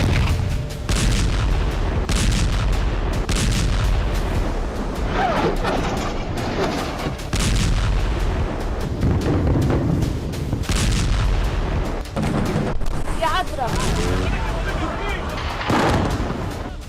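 Heavy gunfire in Gaza between IDF troops and Hamas, with repeated booming shots and crashing blasts over a continuous rumble, loud and dense throughout.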